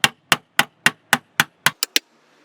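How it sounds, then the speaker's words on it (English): Metal hammer blows ring out on a Ford Fiesta passenger door hinge during removal: nine sharp, close, evenly spaced strikes, the last two coming quicker, then silence. "We'll just hammer this one down."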